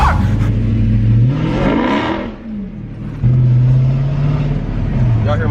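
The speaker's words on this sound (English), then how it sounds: "Y'all hear my exhaust" Dodge Charger SRT8 Hellcat exhaust revving, a loud deep burble that rises and falls over a couple of seconds, dips, then settles into a steady throaty rumble close by.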